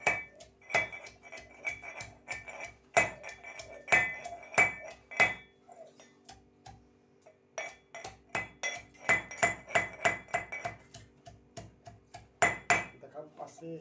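Garlic pounded in a metal mortar and pestle while preparing desi-style chicken curry, a long run of sharp metallic clanks at an uneven rhythm with brief pauses, close and fairly loud.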